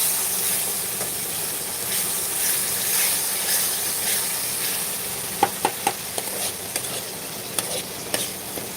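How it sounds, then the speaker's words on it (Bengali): Curry gravy being sautéed in a pan after a splash of water, a continuous steamy hiss and sizzle with a few sharp scraping or clinking stirs near the end, close and fairly loud with no talking. "আর একটুখানি জল দিয়ে দিচ্ছি আমি আবারও কষিয়ে নিচ্ছি"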